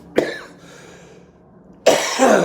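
Two sharp coughs, one near the start and another about two seconds later, close and loud with a quiet pause between.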